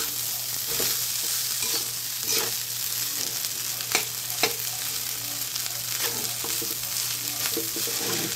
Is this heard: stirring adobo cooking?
yes